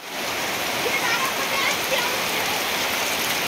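Rain pouring steadily outdoors in the Sundarbans village of Kumirmari, a dense continuous hiss at constant loudness with no pauses.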